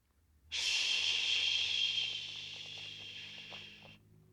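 One steady, breathy exhalation during qigong practice lasting a few seconds, close and soft, rising suddenly and tapering off before stopping.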